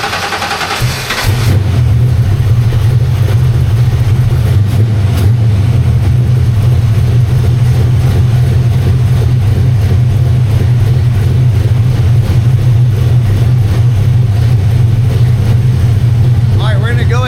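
A car engine freshly fitted with new spark plugs catches after a brief noisy moment and settles into a loud, close, steady running drone that holds evenly to the end.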